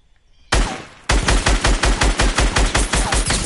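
Rapid bursts of SCAR assault rifle fire in Fortnite, loud and close, opening with a single sharp shot and then a steady rhythmic string of about fifteen evenly spaced cracks with no talking.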